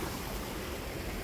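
A mountain stream in Alanya rushes steadily where it flows into the sea, a dense, continuous wash of water noise filling the short moment with no voices.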